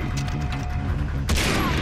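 Gunfire from a weapon in the Far Cry 3 video game: a rapid burst of repeated shots with a loud blast near the end, close and dense throughout with no talking.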